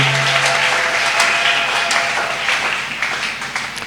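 Steady crowd applause at a church service fills the whole stretch, a dense wash of clapping that holds at an even level with no voices on top.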